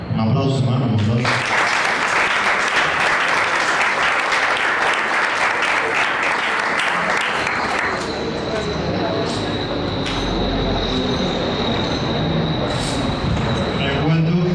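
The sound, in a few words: applause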